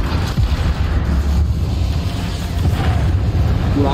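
Explosion in the tank battle game Armour Warfare, a loud rumbling boom with low-frequency weight, sustained over several seconds amid continuous battlefield noise.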